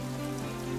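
Steady rain falling outdoors, a brief, even wash of patter without any voices.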